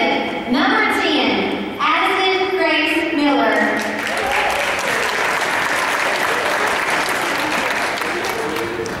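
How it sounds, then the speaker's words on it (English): A pageant crowd claps loudly for a Little Miss contestant, a thick continuous burst of applause following a few seconds of an announcer talking over the start. "Big round of applause for contestant number 10."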